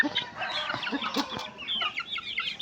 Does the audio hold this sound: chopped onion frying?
no